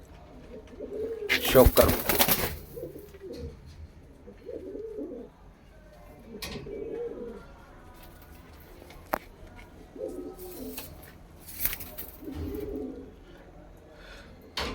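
Punjabi malai chhatri pigeons from Ludhiana coo in repeated soft throaty bursts nearby, with a loud rustle or wing flap early on and someone speaking briefly.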